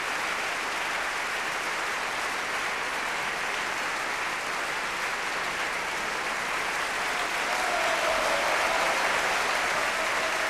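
An opera audience applauds and cheers loudly for the singer of Cherubino at a 1995 Salzburg staging of Le nozze di Figaro. The applause is dense and steady for the whole stretch and swells slightly near the end.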